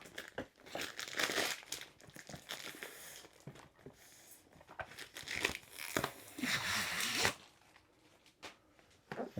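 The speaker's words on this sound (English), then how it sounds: "So the first thing we have to do is remove the clear film from the box. So peel this off." Clear plastic film peeled and crinkled off a diamond art kit box, with bursts of crackling, tearing rustle coming close and loud in several waves, pausing briefly between pulls.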